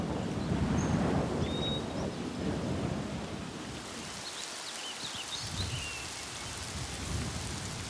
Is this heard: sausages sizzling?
no